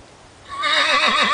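A horse whinnies loudly after a quiet start, its wavering neigh rising and falling for about a second, fairly close.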